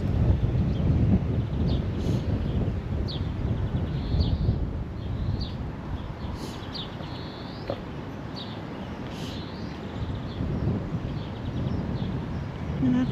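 Steady gusts of wind buffet the microphone with a broad, rumbling roar outdoors in New Zealand, while faint bird chirps come through now and then.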